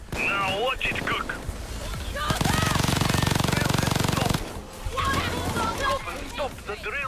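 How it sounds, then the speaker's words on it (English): A heist drill in the video game Payday 2 rattles in a fast, loud mechanical hammering for about two seconds, set between stretches of game noise and people chatting. "Stop the drill."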